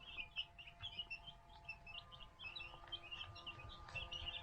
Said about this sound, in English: We've got 4 turkeys in here.